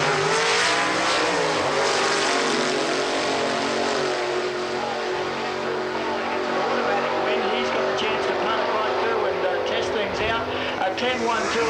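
Traditional and modern style gasser drag cars launch side by side in a first-round Super Gas Eliminator heads-up race at Eastern Creek, a loud, continuous engine roar that holds steady for the whole run with a commentator talking over it.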